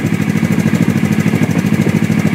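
Motorcycle engine idling steadily after a new used rectifier was fitted, a continuous close, loud rhythmic mechanical thrum with no talk over it.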